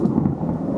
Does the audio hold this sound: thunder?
yes